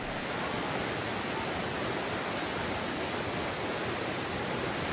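A slippery waterfall in Bueng Kan, Thailand, near the Mekong, pours with a soft, steady broadband rush from a distance, unbroken and without voices.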